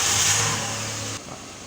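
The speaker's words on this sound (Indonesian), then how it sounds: "Kita hidupkan dulu mesin." A car engine runs at a high idle before a workshop scanner check of its EMS system, with a steady close mechanical drone that drops abruptly to a lower, quieter hum partway through.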